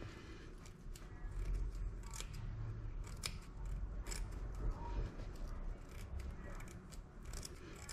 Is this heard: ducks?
no